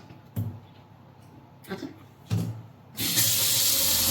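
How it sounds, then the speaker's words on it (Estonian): A touch-activated faucet in a Vietnamese resort bathroom in Mui Ne, a few soft taps on the fixture, then water suddenly gushing into the sink in a steady, close, hissing stream. "puudutad kraani ja hakkab tööle."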